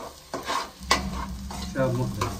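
Turmeric and masala frying in a pan are stirred with a spoon, making several distinct scraping strokes over a steady close sizzle for fish curry, with no talking.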